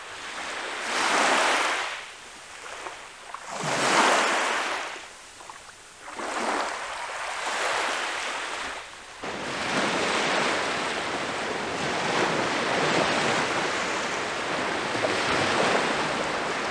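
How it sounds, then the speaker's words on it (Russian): Gentle waves wash in on a sandy beach at Shchyolkino, Crimea, in slow, soft surges, then settle into a continuous low rushing of surf with some wind. "Спокойное море."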